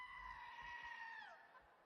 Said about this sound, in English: That was a confused goat there.